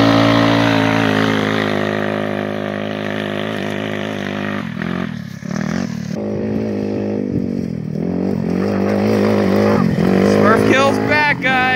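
A Tao Tao Targa 200 go-kart engine runs steadily while riding around, a loud buzzing drone that dips and revs back up several times, with rising pitch near the end.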